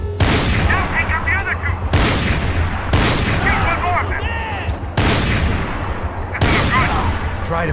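Gunfire in the Max Payne 3 video game: heavy, booming shots in rapid bursts, loud and close, with voices shouting over the combat.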